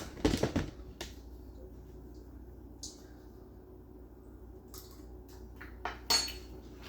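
A small metal spoon scoops creamy crab alfredo from a dish in a home kitchen: a quick cluster of close clinks at first, then faint scrapes in near quiet, and another sharp clink near the end.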